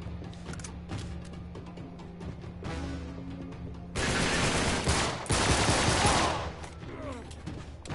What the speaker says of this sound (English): Who's shooting at me from above?